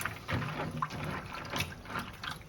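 Raw peanuts being rinsed under running water, a close splashing and trickling with small bursts as the nuts are swirled and handled.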